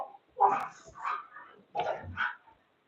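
A few dogs bark and yip in short bursts close by, two clusters of sharp barks separated by a brief pause.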